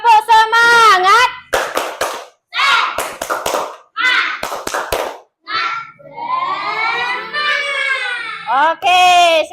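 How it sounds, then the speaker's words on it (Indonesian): A classroom of students performs a tepuk semangat spirit clap, bursts of rhythmic hand claps alternating with loud chanted voices, close and lively, in a quick call-and-clap pattern. "Tepuk semangat."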